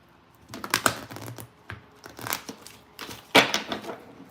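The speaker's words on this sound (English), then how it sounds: "Like, I can still shuffle, but it's a little hard." A large deck of oracle cards being shuffled by hand, with bursts of riffling, flapping and rustling card noise in uneven clusters, close and fairly loud, with no talking.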